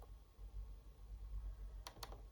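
Two quick clicks on a Synaptics touchpad of a vintage Acer laptop, sharp and close near the end, over a low steady hum.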